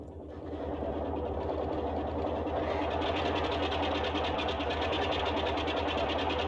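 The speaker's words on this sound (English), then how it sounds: "And we have one good engine start." Boeing 247D radial engine idling just after start in Microsoft Flight Simulator 2020, a steady close, loud droning rumble with a dense rapid pulsing beat that holds evenly throughout.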